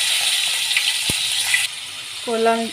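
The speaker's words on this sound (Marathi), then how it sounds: "कोलंबी आपण थोडी 2 मिनिटं फ्राय करून घ्यायची आहे तेलामध्ये" Marinated prawns fry in hot oil, giving a bright, steady sizzling hiss close by that drops suddenly partway through, followed by a short tonal clatter at the end.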